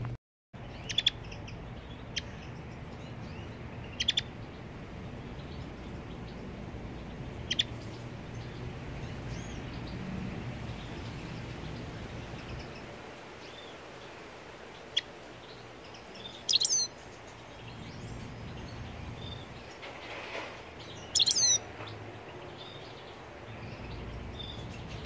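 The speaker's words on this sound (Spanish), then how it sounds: "aquí los dejo con el pajarillo. Vamos a ver ahí lo que canta y lo que no cante." A European goldfinch sings in short, scattered bursts of high chirps and twitters, heard fairly faintly and alone over a steady low background hum, with quiet gaps between phrases.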